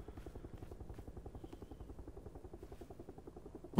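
Steady rotor chop of a helicopter in PUBG, a rapid rhythmic thumping at moderate volume throughout, ending in a sudden loud burst.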